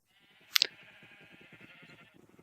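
A single wavering sheep bleat from a Minecraft flock of about a hundred sheep, fairly quiet and close, with a short click at its start and then a pulsing, shaky tail.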